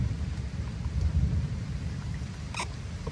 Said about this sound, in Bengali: হালকা বৃষ্টির আওয়াজ হচ্ছে।